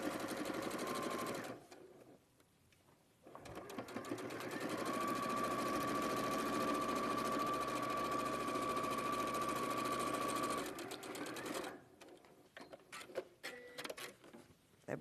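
A sewing machine stitches a seam in a steady, fast mechanical whir with a sustained tone, running about seven seconds between quieter pauses and short bursts at start and end.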